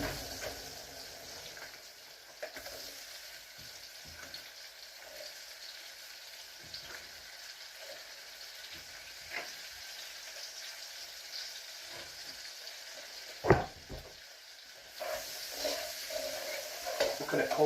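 Onions frying in a pan for a Mediterranean sausage casserole give a faint, steady sizzle, with occasional soft scrapes and one sharp clatter partway through.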